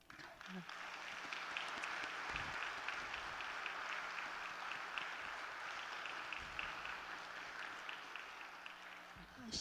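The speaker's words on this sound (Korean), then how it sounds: "이 자리에 함께하고 계신 우리 강남향림교회 교우분들께 수고했다는 박수." A church congregation at a joint Korean worship service applauds in a long, even wash of clapping, fairly faint and distant, with a few low thumps and a brief voice near the start.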